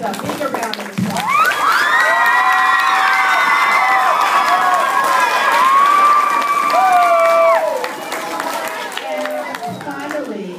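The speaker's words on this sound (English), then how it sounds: "So give your teachers a bigger round of applause." At a school public speaking contest, an audience applauds and cheers for teachers. Loud, sustained clapping mixes with children's shouts and long, high whoops that rise and hold before easing off near the end.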